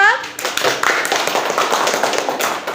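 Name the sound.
applause for group 4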